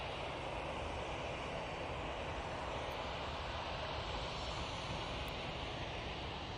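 An EasyJet airliner departs Manchester Airport with a continuous, even jet roar filling the whole few seconds, fairly distant and unbroken, with no talking.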